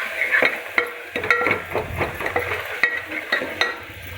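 Onions frying with turmeric and rock salt in a pan for brinjal sambar, stirred briskly: repeated sharp spatula clinks and scrapes against the pan over a continuous close sizzle, with no talking.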